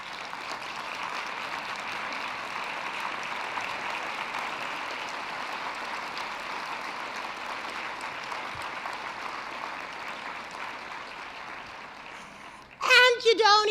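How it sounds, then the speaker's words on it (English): A large crowd at a conference on North Carolina's economic future applauds steadily for several seconds, a dense sustained clatter of clapping that fades slightly before a voice cuts in at the end. "give the next generation of entrepreneurs a round of applause"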